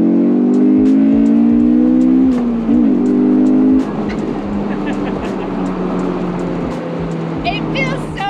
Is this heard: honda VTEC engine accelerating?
yes